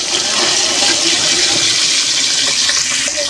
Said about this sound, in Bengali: মাছটা লাল লাল করে ভেজে নেব এপিট ওপিট করে।